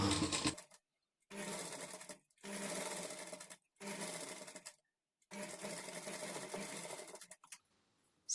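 Sewing machine stitching a princess-cut blouse with invisible thread, running in five rapid whirring bursts separated by short pauses, close and clear with no talk.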